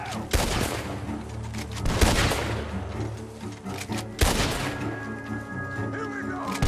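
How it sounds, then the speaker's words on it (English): Gunfire from a barn shootout in Red Dead Redemption 2. Three loud, sharp bursts of shots ring out a couple of seconds apart over a rumbling game background. "Gunshots are coming from that barn!"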